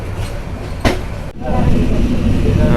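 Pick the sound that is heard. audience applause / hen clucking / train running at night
train running at night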